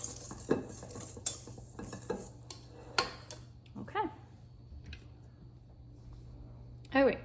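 Dry chocolate cake ingredients with a teaspoon of cinnamon are stirred in a bowl, scattered close scrapes and taps of a utensil against the bowl, spaced out with quiet gaps between.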